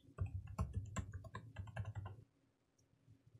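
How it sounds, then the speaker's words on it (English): A computer keyboard is typed on, with a close burst of quick, uneven key clicks for about two seconds before the sound drops away to near silence. "I'll just type that in."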